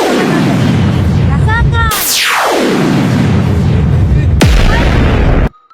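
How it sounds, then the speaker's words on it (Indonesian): Laser weapons firing in the mobile game Sakura School Simulator, a dense, loud, continuous buzzing blast with sweeping pitch falls and a sharp zap, cut off abruptly at the end, with a short spoken word over it. "Cat Butler dan Atom juga akan mengaktifkan senjata laser"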